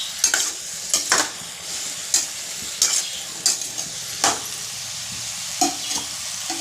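Cauliflower and potato pieces sauté in a pan with a steady background sizzle, broken by repeated scraping strokes of stirring at irregular intervals, close and clear with no talking.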